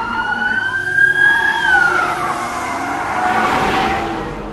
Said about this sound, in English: This is an American fire truck.